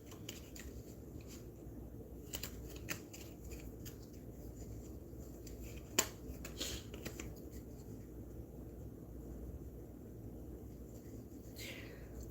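A pile of tarot cards is shuffled quietly, with soft papery riffles and scattered light taps over a low steady background hum and no voices.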